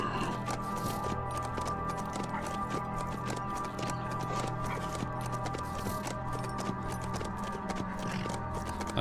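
Horse hooves clip-clop steadily in the survival video game HumanitZ, a continuous galloping rhythm layered over dense game music and ambient noise, with no pause throughout.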